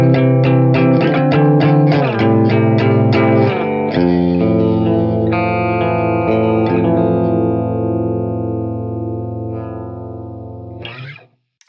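Electric guitar through a boutique distortion pedal into an amp plugin, a run of quick distorted picked notes followed by sustained ringing chords that slowly decay, then a brief final strum.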